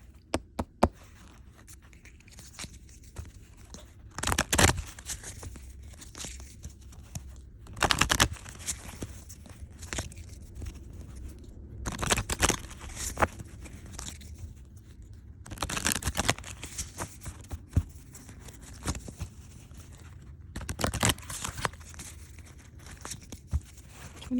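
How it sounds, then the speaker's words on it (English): A deck of Sacred Spirit Animal reading cards being shuffled up close in a quiet room, soft papery riffles and slides coming in scattered bursts separated by near-silent pauses. "So let's just shuffle away"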